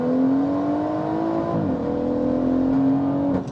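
A BMW M140i accelerates hard on a 0 to 60 run, a steady, loud engine note rising in pitch with a brief gear-change dip midway and the throttle cutting at the end.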